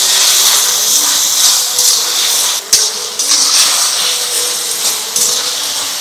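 Prepared sauce hitting hot frying vegetables for chicken chow mein, a loud steady sizzling hiss with bright steam noise that briefly dips and surges again.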